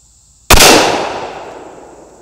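A Glock 40 in 10mm fires a single Underwood Extreme Penetrator round at bulletproof glass, one sharp, loud gunshot with a long ringing decay, and no voices.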